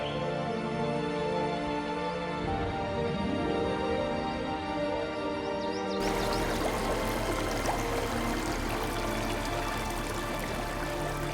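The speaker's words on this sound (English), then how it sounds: "The coursing streams continue to fashion this underground spectacle." Water pours and rushes continuously through an underground limestone cave in southern China, a dense, steady flow that stays loud throughout with no voices.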